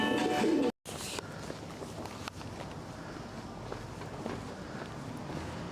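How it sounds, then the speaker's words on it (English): Pigeons or doves cooing in a small flock at a local Japanese city spot, a steady soft murmur of coos with faint footsteps, after a brief opening burst of sound. "Cooing intensifies."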